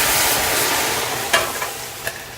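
Boiling water pours into rava roasted in ghee for rava kesari, giving a steady hissing sizzle across the whole stretch, with a few brief sharper spits and bubbles near the end.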